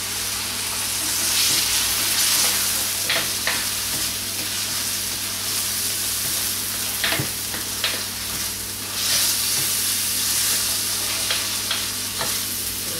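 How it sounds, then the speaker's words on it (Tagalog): Onion and tomato sautéing in an oiled pan, a loud constant sizzle and hiss with scattered clicks and scrapes from the stirring spoon, close up and steady throughout, no talking. "Isa lang natin maigi hanggang maluto yung kamatis."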